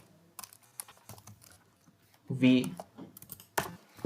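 Rapid clicking of computer keyboard keys while a git commit command is typed, with a scatter of light taps and one louder burst of keystrokes, under a quiet voice.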